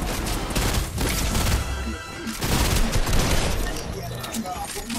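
Rapid bursts of video game gunfire crackle almost nonstop, loud and close, with several people talking over the shooting throughout.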